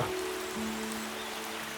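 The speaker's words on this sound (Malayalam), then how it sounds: "പ്രതീക്ഷിച്ച പോലെ തന്നെ അധികം വൈകാതെ മഴ തുടങ്ങി അതും നല്ല ഗംഭീരമായ മഴ" Heavy rain falls on a covered passenger boat during a backwater trip between Kottayam and Alappuzha, a steady, fairly quiet patter and hiss with a faint low engine hum beneath it.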